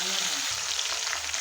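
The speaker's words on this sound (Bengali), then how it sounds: "নুন দিয়ে ভালো করে আমি ভেজে নেব" Potatoes and catla fish frying with salt in a hot pan give a steady, close, continuous sizzle and crackle with no talking.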